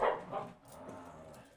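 A young shepherd mix and a boxer mix play together indoors, giving a loud yip or bark at the start followed by softer whimpers and grumbles, with scuffling in between.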